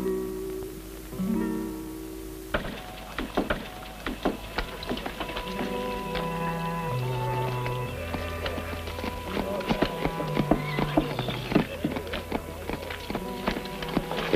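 A horse that has lost a shoe clip-clops along, hooves striking in a quick irregular rhythm with sharp close taps over a tonal musical background.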